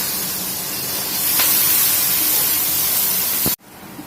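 Chopped onion and chili hit a hot pan and sizzle in a loud, steady hiss that swells slightly, then cuts off abruptly, leaving a quieter sizzle behind.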